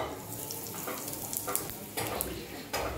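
Cumin and a pinch of asafoetida sizzle in hot oil in a kadai, a close, low crackle punctuated by a few louder bursts as more goes into the pan.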